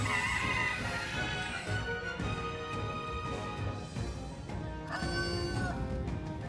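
Loud bird calls with rooster-like crowing ring out over a dense, continuous game soundtrack in Metaphor: ReFantazio, with a sharper burst of calls near the end.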